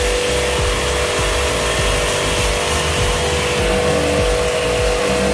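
A pressure washer blasts caked mud and dust off a Mahindra Bolero pickup, making a loud, unbroken hissing roar over a constant motor hum, close and alone.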